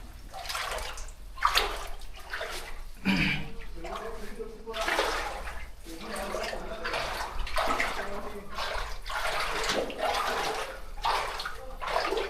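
Deep water inside a hidden cave on Mandakini Parvat near Vajreshwari sloshes and splashes in rhythmic surges as someone wades through it, close and echoing, with people talking intermittently over the water.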